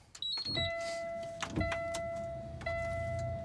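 Truck starting up during an in-cab pre-trip inspection: electronic chimes and a steady warning tone, then short mechanical clunks and a brief crank, heard close inside the cab.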